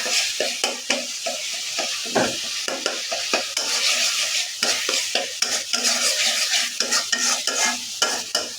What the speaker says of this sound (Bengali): আমার মশলাটা কষানো হয়ে গিয়েছে